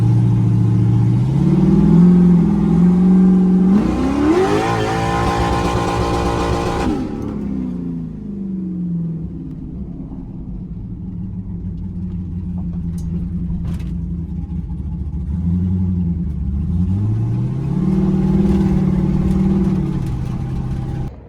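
An E85-fueled truck engine revs hard through an acceleration pull, its loud, close roar climbing in pitch, then settling into a steady rumble with further swelling revs.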